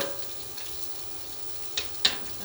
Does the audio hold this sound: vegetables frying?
yes